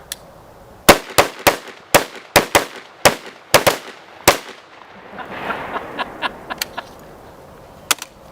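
An S&W M&P15 AR-15 rifle loaded with Hornady 52 grain AMAX bullets fires about ten sharp, loud shots in a fast string, hitting frozen 2-liter bottles. Fainter pops and spatter follow at the end.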